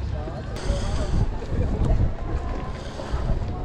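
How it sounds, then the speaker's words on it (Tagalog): Strong wind roars steadily across the microphone while out fishing by the water with ajing light-game gear, a broad, gusting rumble that swells and eases throughout with boat and wave noise mixed in. "The wind is very strong."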